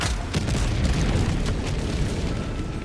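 An Eruptor weapon fires explosive rounds in Helldivers 2, producing dense, booming blasts that merge into a continuous loud rumble with no pauses.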